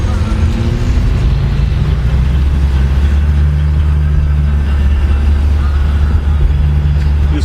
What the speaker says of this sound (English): See if we get the tires to spin with the spool.